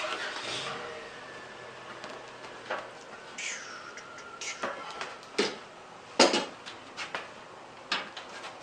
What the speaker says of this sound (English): let me flip the bench around